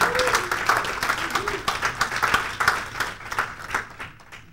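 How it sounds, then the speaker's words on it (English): Audience applause in a theology class, a room of people clapping to welcome a latecomer through the door, steady and moderately loud before fading, with some talk mixed in. "We were just clapping for you coming in the door, Phil."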